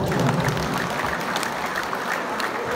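Audience applauding at a preschool ceremony in Mexico, a dense, steady wash of clapping from a crowd filling the whole stretch without pause.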